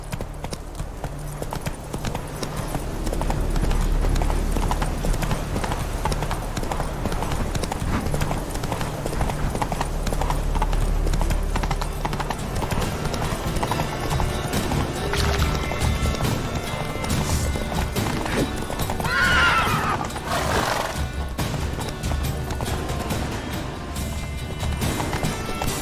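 Horse galloping in The Witcher 3, a steady rhythmic clip-clop of hooves running across the whole stretch, with a brief whinny near the end, loud and close over a low game music bed.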